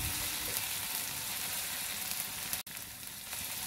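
Spice paste sautés in a pan for nasi goreng with torch ginger, a steady crackling sizzle like light rain, broken by a brief sharp dropout near the end before resuming.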